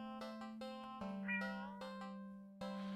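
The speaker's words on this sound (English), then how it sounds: "the cat meows almost pitifully at you" Cat in a horror video game meows pitifully, a short plaintive cry over a steady droning tone and percussive music hits, moderately loud and without speech.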